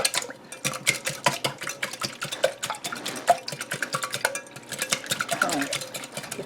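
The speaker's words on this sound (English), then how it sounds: "Get that whisked up a little bit there" Eggs whisked in a bowl for a pork roll and thyme biscuit breakfast casserole, quick rhythmic clinking and stirring strokes running steadily throughout, close and fairly loud, with a voice speaking over part of it.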